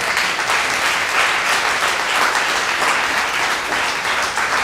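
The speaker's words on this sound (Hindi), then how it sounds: "यहाँ तालियां होनी चाहिए थी।" Sustained audience applause at a religious talk, a thick steady roar of many people clapping together that stays loud and even throughout, with no speech over it.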